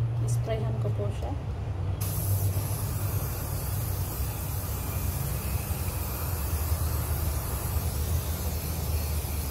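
A can of cooking oil spray hisses onto a baking tray for beef loaf muffins, a steady close airy spray that runs almost unbroken after a brief softer start.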